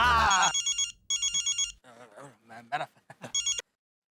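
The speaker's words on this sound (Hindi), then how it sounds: "हाँ बबीता का फोन है, मेरे को जाना है" A telephone rings in a home scene from the Indian sitcom Taarak Mehta Ka Ooltah Chashmah, several bright repeated bursts of electronic ringing alternating with a voice talking between rings.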